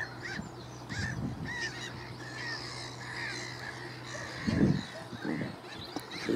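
Canada geese honk near and far with gulls calling at a marina nesting area, harsh repeated honks over steady outdoor ambience and a constant low hum.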